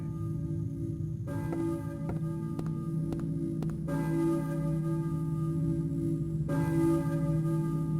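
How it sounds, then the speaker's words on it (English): A church bell in the video game Silent Hill (1999) tolls repeatedly with long ringing overtones, struck at a slow, steady pace over a constant low hum. "I hear a church bell"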